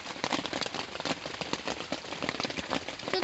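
Heavy rain falls steadily at an autumn campsite in Izu, Japan, a dense continuous patter filling the scene without pause.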